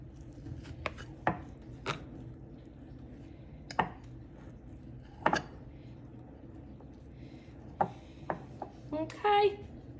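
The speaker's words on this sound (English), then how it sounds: "Scrape as much as you can out." Spoon or spatula scraping chocolate ball mixture out of a mixing bowl in a home kitchen, a series of short scratchy strokes spaced irregularly, close by, with some low background noise.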